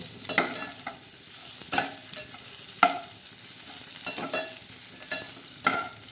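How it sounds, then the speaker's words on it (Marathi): Tadka for dal fry sizzles in hot oil, a continuous crackling hiss broken by repeated sharp spoon scrapes and stirring knocks against the pan, close and fairly loud. "तडका असा खरपूस झालेला आहे"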